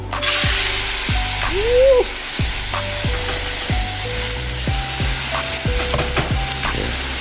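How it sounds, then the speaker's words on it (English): Steady loud sizzling of a pound of shrimp sautéing in a pan, with repeated scraping and stirring clatter throughout; no voices. "We got a pound of shrimp. We're about to saute that up."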